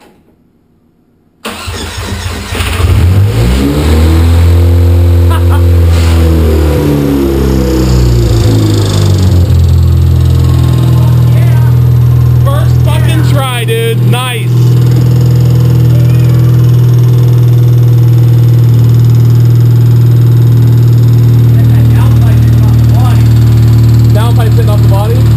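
A car engine with a 20 PSI boost setup and HY35 turbo cranks and catches, then runs loud and steady near the microphone with brief revs, while people talk over it.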